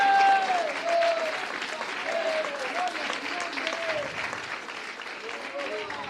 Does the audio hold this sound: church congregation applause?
yes